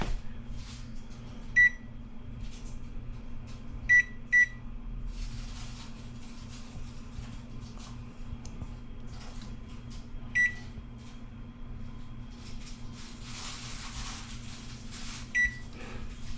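Control panel of a Whirlpool Accubake electric oven being unlocked, a short series of sharp electronic beeps spread out over a steady low hum, close and clear.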